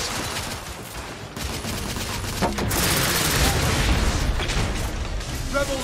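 Loud, dense gunfire from The Order: 1886, continuous rattling bursts and booms layered over battle noise for several seconds, close and overwhelming.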